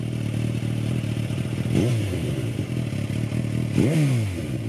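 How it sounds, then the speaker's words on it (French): A Suzuki Katana motorcycle with an Akrapovic exhaust idles with a steady throb, then blips its throttle twice in quick rising revs that fall back, close and fairly loud. "La sonorité de l'échappement Akrapovic fait vraiment sport"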